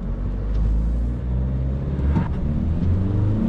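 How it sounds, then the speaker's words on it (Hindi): A 2021 Isuzu V-Cross 4x4 automatic pulling hard from a standstill with a bit of wheel spin, a loud close engine drone rising and swelling steadily from inside the cabin, with no voice. "definitely a bit of wheel spin"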